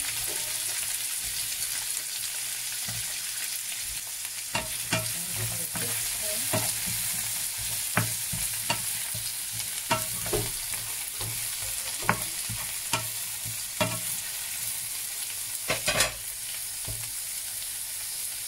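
Carrots and eggplant fry in a pan with a constant steady sizzle, broken by frequent light scrapes and clicks of stirring, close and even throughout.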